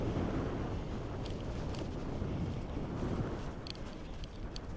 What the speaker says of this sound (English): we've got ourselves a little bit of headwind here